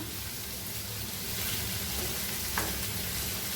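Onions sautéing in oil in a pan for squid masala give a steady, dense sizzle and crackle that fills the whole stretch without pause, with one faint clink partway through.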